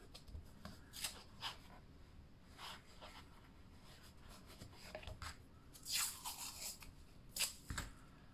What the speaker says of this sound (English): I'll pop a little bit of tape on here.